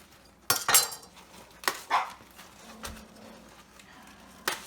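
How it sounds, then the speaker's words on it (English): Dogs indoors bark in a few sharp, loud bursts, reacting to kids playing outside in the driveway, with clattering kitchen sounds between the barks. "There's kids playing outside in the driveway. And my dogs go nuts."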